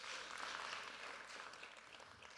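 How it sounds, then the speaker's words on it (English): Audience applause at a tech innovation showcase, a broad steady patter of many hands clapping at a moderate distance, fairly faint and slowly tapering over a couple of seconds. "Give her a round of applause one more time"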